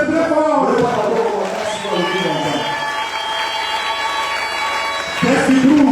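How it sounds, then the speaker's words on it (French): A church congregation claps and cheers loudly with crowd shouting mixed in, a sustained burst that swells again near the end while voices carry through. "Applaudissez très fort."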